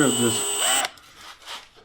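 A power drill whines loudly at high speed while boring with a drill bit during work on a 1996 Ford F-350, then cuts off abruptly, followed by quieter clicks and handling sounds.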